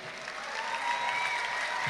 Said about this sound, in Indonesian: Boleh tepuk tangannya buat kita semua malam ini.